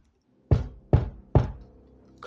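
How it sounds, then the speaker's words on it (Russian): Three firm knocks on a door, evenly spaced about half a second apart, close and loud, followed by a faint short tap at the end. "Кто-то постучал в двери."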